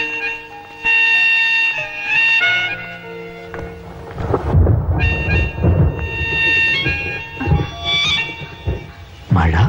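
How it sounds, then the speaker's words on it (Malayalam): Heavy rain falls while thunder rolls in deep, loud rumbles that swell and fade in waves, with a brighter tonal layer over the storm at the start. "മഴ"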